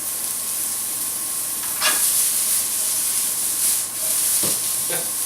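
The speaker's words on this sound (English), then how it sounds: "Sauteing mushrooms, you're just lightly browning them" Mushrooms sautéing in a pan beside a Wagyu chuck beef bourguignon, a steady bright sizzle with a few louder bursts of hiss as they are stirred, close and alone.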